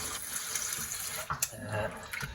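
Tap water runs steadily into a film developing tank during a rinse change, a continuous splashing fill with a couple of brief louder knocks and sloshes, close by with no talk.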